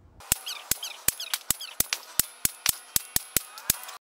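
Pistol shots from a handgun fitted with a red dot sight ring out at a range, about a dozen sharp, evenly spaced cracks in quick succession, moderately loud against a quiet background.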